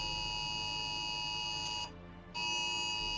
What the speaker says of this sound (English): That was a emergency alert from my phone.